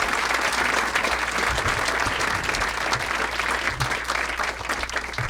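Sustained, dense applause from an audience at a talk by humorist Dave Barry, steady and loud throughout with a few scattered claps standing out near the front.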